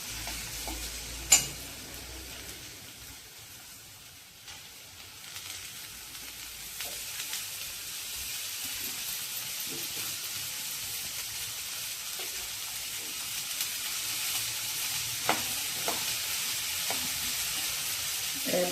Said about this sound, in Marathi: आपण ही भाजी परतून घेऊया.